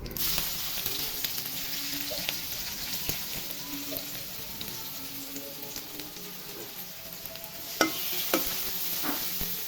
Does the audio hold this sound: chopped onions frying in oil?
yes